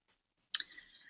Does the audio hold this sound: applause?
no